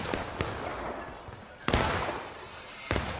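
Gunfire in a military simulation video game, several sharp shots spaced irregularly over a continuous noisy battle background.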